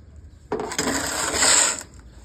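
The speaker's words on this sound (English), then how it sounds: "Flathead, scooping." A flat-head shovel makes a single scooping stroke, a gritty scrape lasting just over a second, close and fairly loud against a quiet background.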